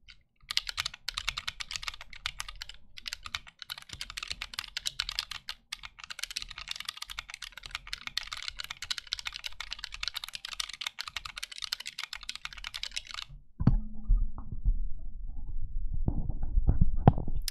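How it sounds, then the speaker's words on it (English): Rapid clacky keystrokes from a Corne wireless custom mechanical keyboard, a steady stream of typing close to the mic, ending in a few heavier thuds and handling noise. "so that's that keyboard, how it sounds"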